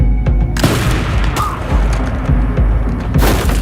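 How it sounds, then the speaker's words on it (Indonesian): Gunfire from a sniper film shootout scene comes as loud, booming shots and heavy thuds in irregular bursts over dense, rumbling background noise. "Setelah terjadi baku tembak yang tak seberapa"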